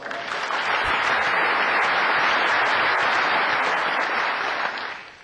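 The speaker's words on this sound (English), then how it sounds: "Let's give him a round of applause." A room full of people applauds a business talk's speaker, a thick, even wash of clapping that swells quickly, holds strong and fades at the close.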